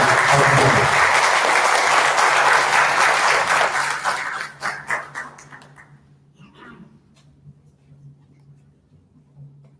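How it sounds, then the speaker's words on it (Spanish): Loud applause from a crowd opening an academic conference lecture fills the first few seconds, then thins into scattered claps and fades to quiet. "Iniciamos la conferencia con un fuerte aplauso"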